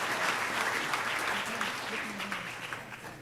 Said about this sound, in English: I want to give him applause